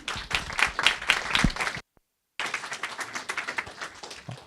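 An audience at a diversity panel event claps for the panelists in a dense, sustained round of applause that breaks off into brief silence, then resumes just as strongly.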